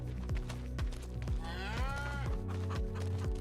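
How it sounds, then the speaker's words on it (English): Cattle in the Farming Simulator 25 video game, one clear drawn-out moo over a rhythmic background of repeating game sounds, close and moderately loud with no talking. "Have our cows here."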